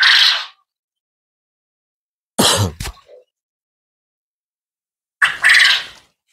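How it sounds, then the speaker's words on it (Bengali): Japanese quails kept in a cage give three short, harsh, raspy bursts, each separated by a few seconds of silence, close by and fairly loud. "এটা মূলত জাপানি কোয়েল।"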